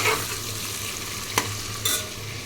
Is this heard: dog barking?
no